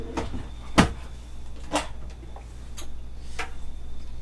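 RV cabinet doors in a bathroom opening and closing, a few sharp wooden clicks and knocks spaced over several seconds at close range, with faint room noise between.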